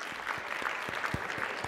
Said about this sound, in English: So let's all give ourselves a round of applause.